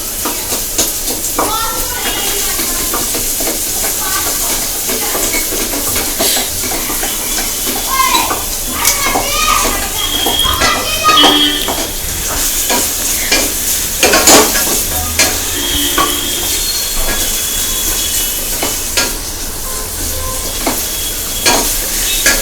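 Finely diced onion frying and being stirred in a pan, a steady close sizzle with scraping utensil strokes throughout, no talking.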